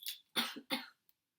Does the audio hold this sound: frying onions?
no